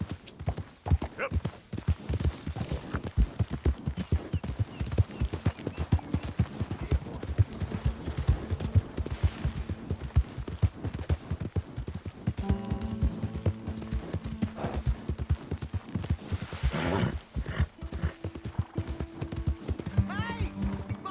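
Rapid, steady hoofbeats of a galloping horse in Red Dead Redemption 2 pound on throughout, with occasional tonal game sounds and a brief voice over the rhythm.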